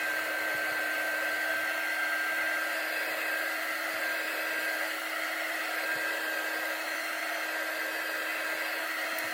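A hair dryer blows steadily over wet acrylic paint, a constant close, loud whooshing drone with no breaks or talking.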